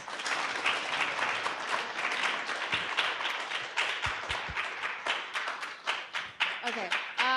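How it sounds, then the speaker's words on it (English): A church congregation at a Sunday service in Seattle applauds in a lively round of clapping that gradually thins into scattered, distinct claps near the end, with some voices murmuring underneath. "Can we give another round of applause?"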